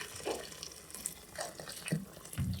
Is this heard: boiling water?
yes